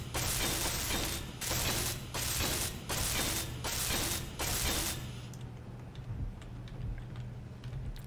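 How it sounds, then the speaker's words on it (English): Welding in the video game Space Engineers: a loud mechanical whirring that pulses in about five rhythmic bursts, then gives way to a quieter clicking hum. "I just need to weld this up"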